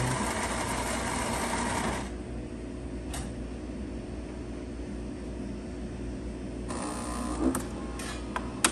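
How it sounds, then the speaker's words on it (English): Saeco Gran Barista Avanti espresso machine grinding coffee beans: a steady mechanical whir that runs for about two seconds, drops to a lower hum, then rises again near the end, with a few small clicks. "You can hear it grinding the beans."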